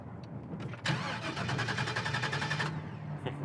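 A Mitsubishi Mini Cab with a twin-turbo LS engine cranks and catches, followed by a steady idle with a rapid mechanical chatter that stops abruptly, then a brief blip.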